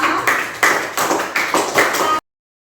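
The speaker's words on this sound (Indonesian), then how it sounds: "Beri tepuk tangan dulu untuk kelompok Nafisa." Classmates clap for Nafisa's group in a classroom, about five short rhythmic bursts of unison clapping, fairly close and loud, then sudden silence.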